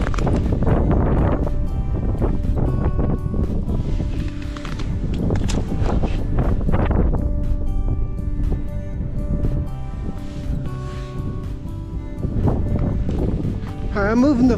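Strong wind buffets the microphone on open ice during an ice fishing trip, a loud, gusting roar that rises and falls continuously.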